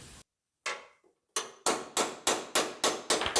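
Hammer strikes on a 1970 Camaro sheet metal panel, a few scattered blows and then a steady run of sharp metallic hits about every quarter second, close and loud with no speech.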